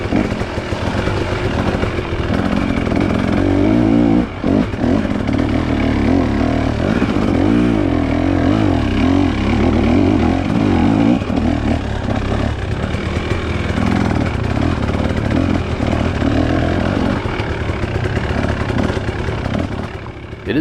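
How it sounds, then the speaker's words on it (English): Dirt bikes ride a rocky trail in a trail-riding event, their engines droning loudly and continuously throughout with rising and falling revs and rough wind and ground noise. "It is nice to get a bunch of bikes in through here and kind of beat the trail in."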